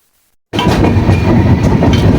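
A passenger train, a clean special service from Pune toward Prayagraj, slowing as it nears Ahmednagar. After half a second of silence, a loud, steady rumble of wheels on rails starts abruptly and continues without a break.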